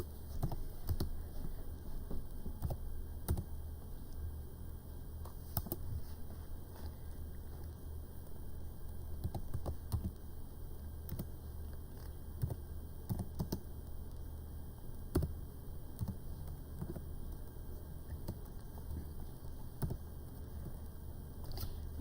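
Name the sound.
typing on a computer keyboard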